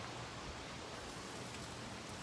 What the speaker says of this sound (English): I'm getting soaked with the rain.